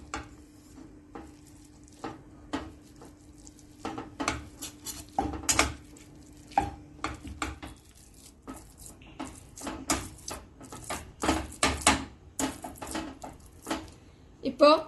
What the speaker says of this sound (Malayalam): ഞാനിപ്പോൾ ഒരു മാഷർ വെച്ച് ഉടച്ചെടുക്കുന്നത്.